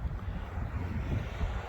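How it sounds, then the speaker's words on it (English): Wind gusts buffeting the microphone outdoors on a drive through Menomonee Falls, a steady low rumble with no voices throughout. "It's getting a little windy"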